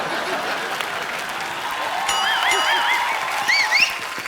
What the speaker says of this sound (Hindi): मो के धागे की स्टार कास्ट के लिए तालियां।